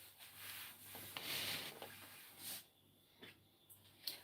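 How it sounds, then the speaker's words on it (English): A cloth rubs quickly across a cake work surface during ganache work, several soft, brief swishing strokes, faint and close, with no talking. "I am going to wipe my work surface rather quickly"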